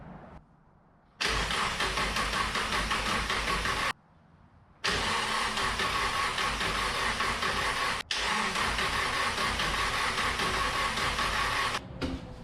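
A car engine with newly replaced injectors, after a bad fuel rail leak, cranks loudly up close in two long bursts separated by a pause, then keeps cranking until it turns over and runs steadily.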